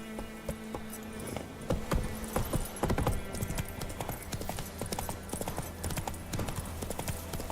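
Roach, the horse in Witcher 3, trots with steady clip-clop hoofbeats close up, a rapid rhythmic clatter that runs the whole time over soft game ambience.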